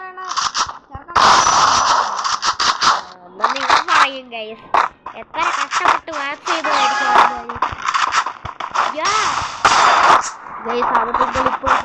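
Bursts of gunfire from the Free Fire mobile game crack in sharp repeated shots, interleaved with lively speech from a player throughout.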